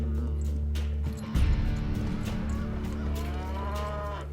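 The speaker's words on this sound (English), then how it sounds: "There's so many cattle out here." Cattle out on open range let out a loud, deep, drawn-out moo close by, with low rumbling background noise continuing before and after.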